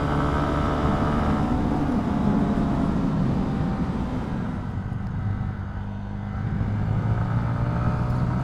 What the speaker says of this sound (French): Le petit moteur, il prend bien ses tours